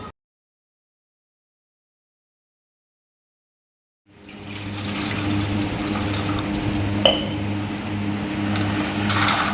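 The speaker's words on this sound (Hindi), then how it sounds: "गर्म पानी लिया है, उसमें डाल दिए हैं मूंगफली के दाने" Hot water poured over shelled peanuts in a kitchen: after about four seconds of silence, a steady liquid rush begins with a low hum beneath it and continues to the end, with one brief knock partway through.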